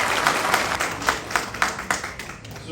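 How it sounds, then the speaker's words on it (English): An audience claps after a performance at a community celebration event, a quick burst of many hands that thins toward a few distinct, evenly spaced claps as it winds down. "So, another one round of applause for her and the performance area."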